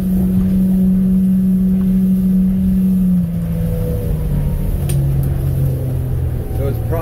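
A 1996 Sea Chaser 1511 motorboat engine drones steadily on the water, its pitch dropping slightly partway through as the throttle eases, with rushing water noise underneath.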